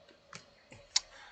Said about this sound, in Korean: 제가 하나를 타이핑을 해서 정리를 해 드리도록 하겠습니다